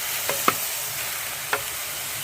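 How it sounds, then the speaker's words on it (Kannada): Two dry red chillies, a small piece of ginger and two garlic cloves sauté in two spoons of oil alongside tomato, giving a steady soft sizzle broken by three quick stirring scrapes, close and without speech. "2 ಒಣಮೆಣಸು ಹಾಗೂ ಸಣ್ಣ ತುಂಡು ಶುಂಠಿ ಮತ್ತು 2 ಹೋಳು ಬೆಳ್ಳುಳ್ಳಿಯನ್ನು ಹಾಕಿ ಇದನ್ನು 2 ಚಮಚ ಎಣ್ಣೆಯಲ್ಲಿ ಸ್ವಲ್ಪ ಬಾಡಿಸಿಕೊಳ್ಬೇಕು"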